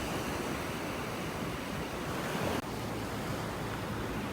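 Steady broadband wash of ocean surf on a beach in North Naples, Florida, continuous and fairly close with wind noise on the microphone and a brief dropout partway through; no talking.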